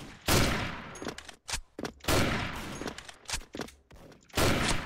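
AWP sniper rifle shots ring out in the online shooter Special Force, with a few loud, sharp reports spaced apart among quieter clicks of bolt handling and other game sounds.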